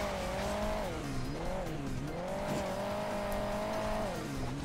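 In Hill Climb Racing 2, a motorcycle engine drones steadily with repeated dips and rises in revs, a sustained buzzing whine at moderate loudness.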